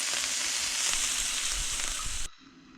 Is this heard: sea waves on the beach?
no